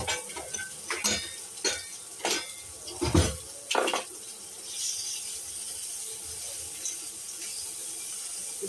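Pasta tipped into a hot pan on a home stove, with several clattering knocks and scrapes of metal and utensils over a faint steady sizzle; no talking.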